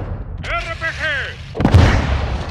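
Rocket-propelled grenade launch and gunfire in the Call of Duty: Modern Warfare 2 (2022) campaign: a whooshing projectile followed by a loud close blast and rumbling crackle of fire, with brief voiced game chatter.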